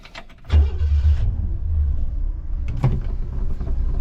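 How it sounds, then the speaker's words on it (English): A 1967 Chevy Nova fitted with a carburetor is driven, its engine a loud steady close rumble inside the car, with a surge as it pulls away and another shift in tone a couple of seconds later. "take it for a spin and see how close we got it"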